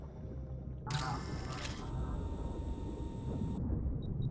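A camera shutter in a diving video game clicks for a whale photo, a sudden bright mechanical burst with a whirring wind-on that lasts a couple of seconds over a low ambient underwater rumble.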